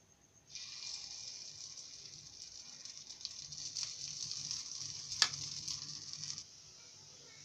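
Kuzhi paniyaram batter made from idli batter hits hot oil in a paniyaram pan. It gives a steady, close frying sizzle that starts abruptly, holds for about six seconds with a brief crackle near the end, then cuts off.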